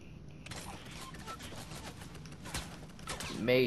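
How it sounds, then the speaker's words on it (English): Video game gunfire crackles in quick bursts, a steady fusillade of faint shots with a louder, closer volley near the end, with no voices. "Matrix, who's shooting?"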